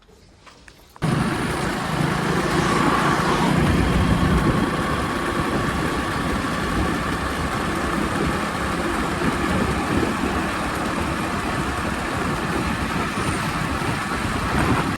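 An engine starts up and runs as a personal vehicle pulls away, a steady loud rumble of motor and road noise that holds for the rest of the stretch after a brief quiet start.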